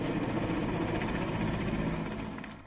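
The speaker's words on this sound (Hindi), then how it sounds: "सेना के हेलीकॉप्टरों ने कोरोना अस्पतालों पर पुष्प वर्षा की।" An army helicopter flies low over a COVID hospital during a flower-shower salute, its steady, loud rotor and engine roar filling the whole stretch without pause.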